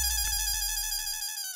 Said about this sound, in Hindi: मैं अभी अंजलि बाबी को फोन करती हूँ